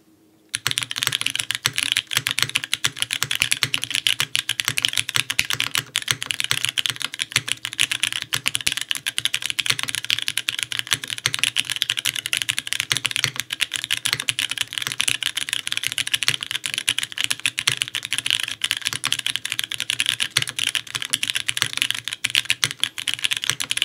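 Fast, continuous clacking from Jane ME mechanical keyboards fitted with MX Brown, BCP and MX Black switches, close and loud, keys rattling without pause and no speech.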